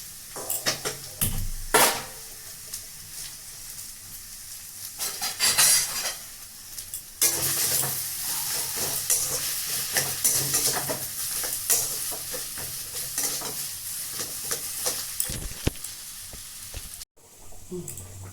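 Mashed potato filling for aloo paratha is stirred in a hot pan, making repeated close scraping and clattering strokes of a spoon over a continuous sizzle, with a brief dropout near the end.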